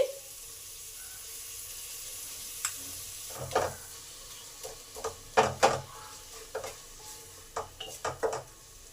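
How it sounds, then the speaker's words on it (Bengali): Salted tomatoes softening in a pan give a quiet, faint frying hiss, broken by a series of scraping stirs that come in short bursts and grow more frequent toward the end. "টমেটোগুলো ভালো করে নরম করে ভেজে নিতে হবে"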